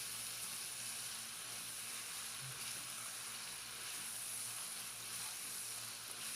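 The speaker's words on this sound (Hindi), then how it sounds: "चिकन को मसाले के साथ हम अच्छी तरह से फ्राई कर लेंगे।" Boneless chicken fries with spices in a pan, a faint, even hiss of sizzling oil that holds steady throughout with no other sounds.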